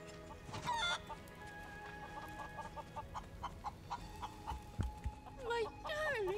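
Chickens cluck and squawk in Final Fantasy VII Rebirth, a busy run of short clucks with a few louder rising squawks near the start and end, close and lively amid game ambience.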